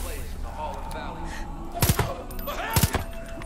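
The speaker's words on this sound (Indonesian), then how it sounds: "Ada banyak suara tembak-tembakan" Gunfire in the video game Far Cry 5, two short bursts of rapid shots about a second apart over a low background bed, fairly close and loud.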